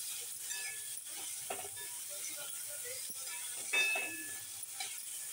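Cabbage, capsicum and green beans being sautéed in a pan, a steady soft sizzle with occasional scraping and stirring clatter, faint and continuous.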